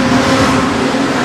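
Street stock race cars roar steadily down the main straight at a dirt-track speedway heat, a loud, continuous engine drone with no break.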